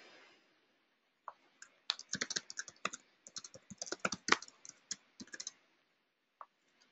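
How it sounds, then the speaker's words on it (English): Computer mouse clicks in a quiet office, a quick scattered run of sharp, close taps with short pauses, much like keyboard typing, with no talking. "So I'm just going to right click and select IM."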